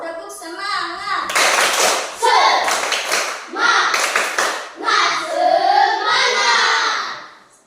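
Schoolchildren in a classroom perform the 'tepuk semangat' clapping chant, bursts of loud rhythmic group clapping alternating with chanted voices in a repeating pattern.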